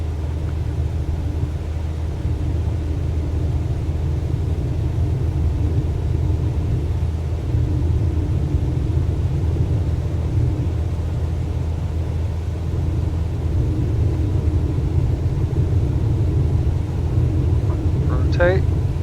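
In Microsoft Flight Simulator 2024, an airliner on a VIP charter powers up for takeoff, its engines giving a loud, steady low rumble and drone throughout.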